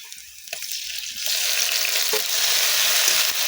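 Green chili and ginger paste frying in hot oil, a steady broadband sizzle that swells louder partway through, with faint stirring clinks and no voices.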